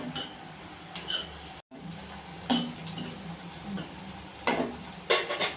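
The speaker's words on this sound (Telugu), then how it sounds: "ఇట్లా కలుపుకోవాలి. మంచిగా గోల్డ్ కలర్ వచ్చేదాకా వేపుకోవాలి మొత్తం." Bitter gourd slices stir-fry in a pan until golden, a soft steady sizzle broken by a handful of sharp clinks and scrapes from a stirring utensil, spaced a second or so apart, with one brief dropout and no talking.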